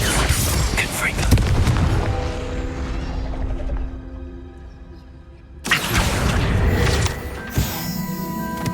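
Spell blast from the Confringo curse in Hogwarts Legacy, a loud booming burst that rumbles and decays over several seconds before a second sharp impact, with game noise throughout.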